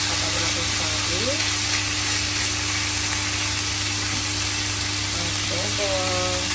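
Chunks of pork brown for Filipino adobo in a frying pan, giving a steady, close sizzle with a low hum beneath. Faint voice traces come and go over the sizzle.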